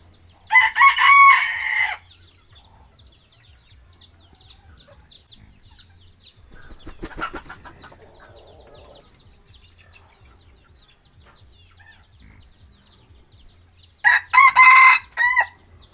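Chickens crow and cluck on a farm, with loud bursts of crowing at the start and end and quieter clucking and rustling between.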